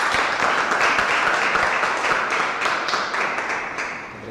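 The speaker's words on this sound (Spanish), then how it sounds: "Un fuerte aplauso." Audience applause fills the hall at the close of a Spanish-language science lecture on Mars, a steady dense clapping from many hands that holds for several seconds and then tapers slightly at the end.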